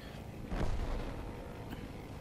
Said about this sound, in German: Da ist jemand explodiert